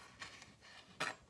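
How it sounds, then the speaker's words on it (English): A knife slices through tomatoes on a board in a few soft, quick cuts, faint and close, the last stroke a little louder, with no talking. "I'm gonna cut my tomatoes and I'm just gonna cut these in half"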